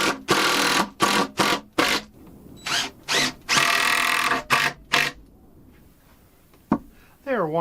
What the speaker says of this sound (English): I think about every 8 inches we'll drill a hole here